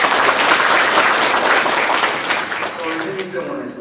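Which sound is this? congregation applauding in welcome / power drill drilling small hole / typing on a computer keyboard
congregation applauding in welcome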